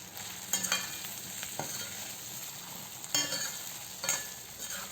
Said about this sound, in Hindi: इसको मिक्स करेंगे और साथ साथ ही आलू डालकर हल्के हाथ से मिक्स करेंगे।